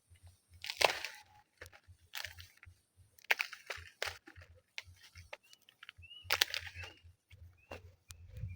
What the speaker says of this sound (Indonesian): kalau kita injak pinggirnya berbunyi renyah atau kerenyas, ini pengecoran baik